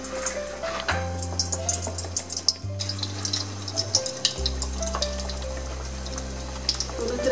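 Pakoras in gram flour batter sizzle and crackle in hot oil, a soft steady frying hiss with bubbling pops. Low background tones hum beneath the sizzle.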